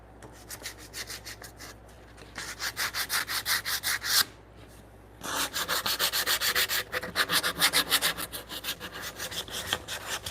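Wooden joinery edges being smoothed and rounded by hand in a woodworking shop, heard as steady rhythmic rubbing and rasping strokes close by, with a brief pause midway and no talk.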